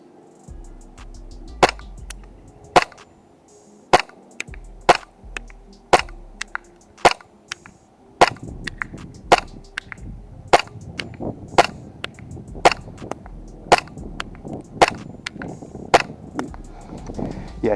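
A KJWorks KP-08 airsoft pistol fires BBs at a target 30 meters away outdoors, giving about twenty sharp, evenly spaced pops with a faint breeze underneath.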